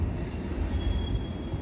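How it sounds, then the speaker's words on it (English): Distant trains heard from Fort Negley in Nashville, Tennessee, a low continuous rumble rolling steadily with no talk over it. "You hear the trains all the way down there."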